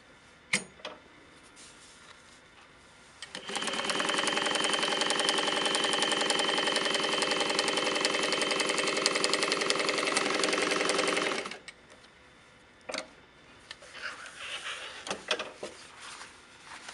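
A Juki DU-1181N industrial walking foot sewing machine runs steadily for about eight seconds, a loud, fast mechanical stitching hum, with a few faint clicks and handling noises before and after.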